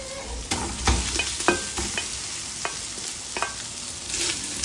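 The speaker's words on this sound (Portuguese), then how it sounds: "A calabresa segue aqui dourando junto com o bacon." Steady frying sizzle of calabresa sausage and bacon browning in a pan, with occasional sharp clicks and scrapes of a utensil stirring, close and continuous, no voices.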